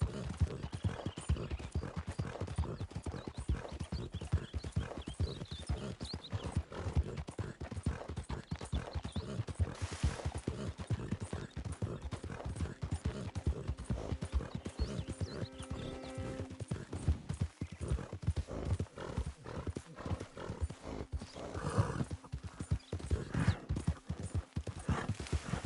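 Steady clip-clop of horse hooves in Red Dead Redemption, continuous rhythmic footfalls at a trot throughout, fairly close, with an occasional whinny and a brief spoken word.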